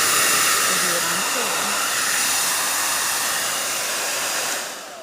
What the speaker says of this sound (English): I really like this hair dryer.